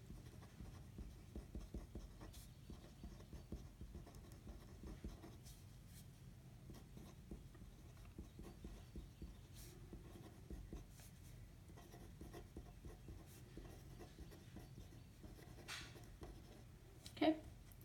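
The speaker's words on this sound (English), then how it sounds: "so I'm just going to write it though" A pen scratches out notes on paper, a soft continuous scribbling close by in a quiet room, with a brief louder tap near the end.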